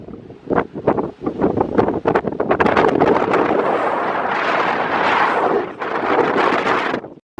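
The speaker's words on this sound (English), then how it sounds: "It was a very windy day. Here's a brief sample of what it sounded like, even with the windscreen on our mic." Strong gusts of wind buffet a microphone fitted with a windscreen at a canyon monument, producing loud, continuous rumbling roar with choppy bursts early on, sustained without voices.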